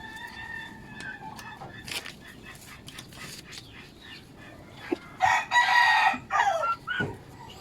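A rooster crows loudly and close by in the second half, after quieter bird calls and clucking of chicks in the background.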